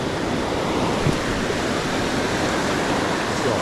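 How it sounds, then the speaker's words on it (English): Dense, continuous roar of surf breaking on a Carlsbad beach, loud and steady with no distinct pauses, nothing else audible over the wash. "Look at these little secondary waves, man."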